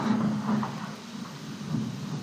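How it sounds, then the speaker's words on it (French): Thunder from a storm outside rolls as a low, muffled rumble indoors, steady and distant, with a faint hum underneath and no voices. "Oh, il y a un orage dehors."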